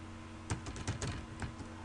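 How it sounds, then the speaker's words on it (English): Fingers tap out an irregular burst of keystrokes on a computer keyboard, soft and close with a faint steady hum beneath, no talking. "we can simply start typing our newest record or row"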